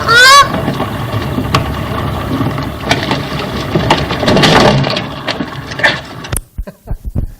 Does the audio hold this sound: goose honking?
yes